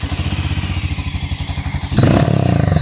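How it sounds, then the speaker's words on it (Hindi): A Harley-Davidson X440 T motorcycle's 440 cc engine thumps at idle with an even, loping pulse, then a throttle blip swells it into a louder, rasping rev, close to the exhaust. "आप जैसे साइलेंसर का साउंड भी सुनाता हूँ"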